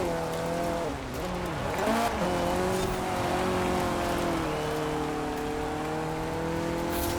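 Race cars roar through an autumn forest course in Forza Horizon 4. Engine tones rise and dip as the cars shift gears, with faint tire squeal, continuous and fairly loud throughout.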